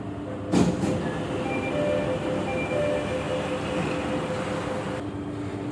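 Jakarta MRT metro train running, a steady loud rumble and hum of the carriage with faint tonal whine, a brief clunk near the start, continuous throughout with no voices.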